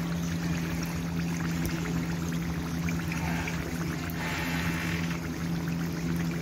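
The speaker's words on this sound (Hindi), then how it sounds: "हमने इस तरह से अपने कढ़ाई में डाल दिए ये सारे और इन्हें इस तरह से हम पकने देंगे थोड़ी देर।" Samosas frying in hot oil in a kadhai give a steady, close, even sizzle with a low hum beneath it, and no voices.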